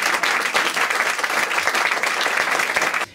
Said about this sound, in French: Oui, vous pouvez l'applaudir